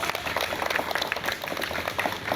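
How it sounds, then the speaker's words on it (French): An audience at a school competition final applauds, a brisk, close wash of many hands clapping with distinct individual claps audible, with no talk. "On applaudit Fazar Éducation"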